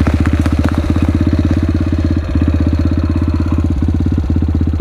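A motorcycle with a 90 tyre, used for riding across slopes, idles close by with a loud, steady, fast-pulsing engine thump that holds throughout with slight dips in rhythm.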